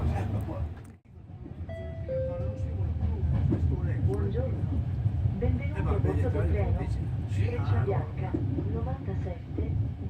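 A steady low rumble of a moving train in Italy underneath, with people talking over it almost throughout and a short chime-like tone early on.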